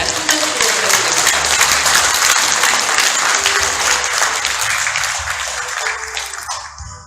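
Audience at a 40th White Cane Day commemorative ceremony applauds a guest speaker with steady, full clapping that slowly thins and fades out, a faint voice underneath.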